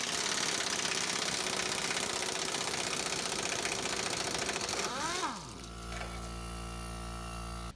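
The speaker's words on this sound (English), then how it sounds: "Take your impact wrench and pull the trigger." An impact wrench rattles hard on chassis bolts of a 2015 Chevy Silverado during a fuel pump job, a loud continuous hammering burst that winds down and stops partway, followed by a lower steady hum.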